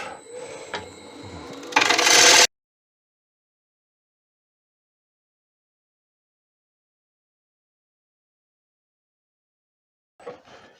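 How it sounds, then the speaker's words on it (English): A lathe tool hollows a 17.5-inch tiger wood and resin bowl, giving a rough scraping cut that grows louder for a moment, then stops abruptly, followed by a long silence and a faint brief sound at the end. "Now, back to hollowing this out."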